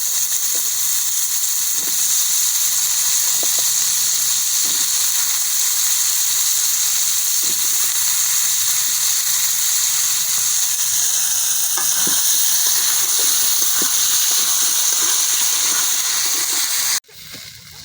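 Potatoes frying in hot oil with a steady, loud, close sizzle and hiss, occasional faint stirring clicks, cut off abruptly near the end.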